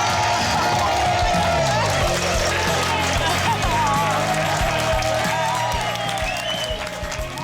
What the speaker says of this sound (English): We give a huge round of applause and waving flags for the new Mr.